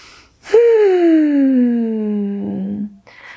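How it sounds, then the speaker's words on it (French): A single deep, audible breath during a De Gasquet-style prenatal yoga session: a voiced, sighing exhale lasting almost three seconds that slowly falls in pitch, close and fairly loud, with no talking. "On prend encore une grande respiration."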